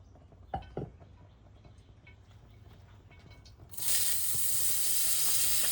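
Butter hits a hot cast iron pan with a couple of clanks first, then bursts into a loud, steady, hissing sizzle that carries on to the end.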